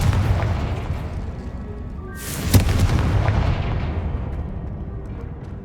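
The Confringo explosive spell in the Hogwarts Legacy video game lands with a single sharp, loud blast, followed by a rumbling boom that slowly fades away.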